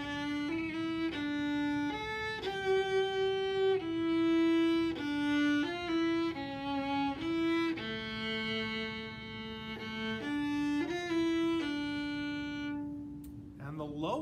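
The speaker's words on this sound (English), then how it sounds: "So here's a demonstration of what the viola sounds like." A solo viola plays a slow, expressive melody of sustained bowed notes, moving stepwise with smooth changes, close and moderately soft, ending on a held tone.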